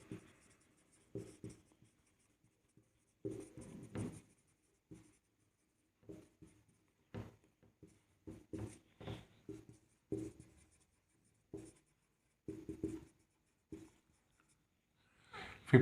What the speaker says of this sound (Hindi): तो चलो फर्स्ट एंड फाइनल कॉल का ड्यू एंट्री लिखते हैं